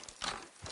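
A brief patter of horse hooves clip-clopping on hard ground in the video game Red Dead, with a faint whinny-like tone in the background.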